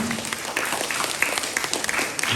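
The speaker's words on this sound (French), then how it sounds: "Bravo, on les applaudit aussi." An audience at a school match event claps in a brisk, uneven burst, with individual hand claps standing out over a steady wash of applause throughout.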